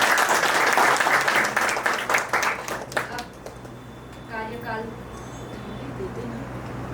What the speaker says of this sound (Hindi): जोरदार ताली हो जाएगा